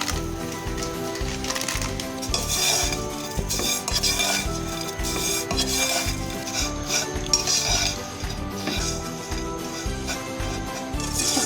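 Lachha semai stirred and fried in a spoonful of ghee over medium-low heat, with dense, rhythmic scraping and clinking of a spoon against the pan and a soft sizzle underneath, close and continuous.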